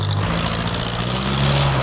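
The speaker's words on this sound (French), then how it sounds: "Oh là là le tracteur. Oh le bruit." A loud, steady engine drone with a low rumbling hum, close by and continuous throughout, like a heavy tractor running nearby.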